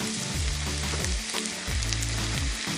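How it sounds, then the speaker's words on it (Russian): Zucchini pieces fry in a pan, a loud continuous sizzle with low bubbling surges that come in waves as more squash is added, with no talking. "Теперь постепенно кабачки кладу сюда. Мне их надо обжарить до мягкости."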